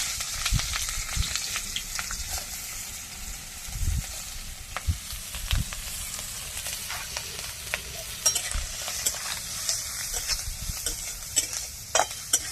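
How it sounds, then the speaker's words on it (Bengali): Capsicum and carrot frying in a little oil in a pan for soybean momo soup, with steady sizzling and repeated sharp scrapes and clinks of stirring throughout, close and moderately loud, no talking. "একটু অল্প করে তেল দিয়ে ভেজে নিচ্ছি।"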